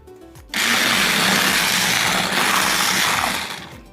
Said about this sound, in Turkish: Bir buçuk yarım su bardağı daha süt ekliyorum ve tekrar bir tur çırpacağım.